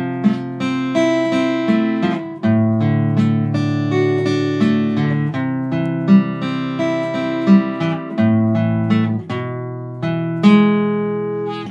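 A guitar plays the intro of a song, with each string of the chord plucked in turn to form flowing arpeggiated chords, clear and close with no voices.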